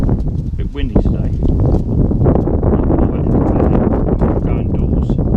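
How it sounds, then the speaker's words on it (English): Strong outdoor wind buffets the microphone, a loud continuous rumbling roar with gusty surges throughout, and someone speaks briefly over it. "It's a bit windy today."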